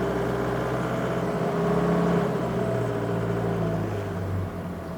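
An Octane FD25BCS 5,500 lb diesel forklift engine revs up as hydraulic pressure builds, a steady close mid-pitched drone with humming tones that swell and then ease off, no talk.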